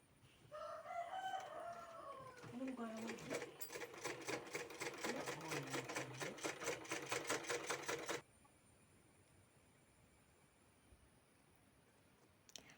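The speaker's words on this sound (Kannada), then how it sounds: "ಇದು ನೆಕ್ ಡಿಸೈನ್ ಹತ್ತಿರಕ್ಕೆ ಒಂದು ಸ್ಟಿಚ್ ಕೊಡಬೇಕು" A domestic sewing machine stitches near a round neck design with lining, running in a fast steady mechanical rattle for several seconds before stopping abruptly. A rooster crows in the background at the start.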